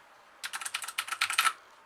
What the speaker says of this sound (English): you've got my Quickfire Rapid Cherry MX Blue Switch mechanical keyboard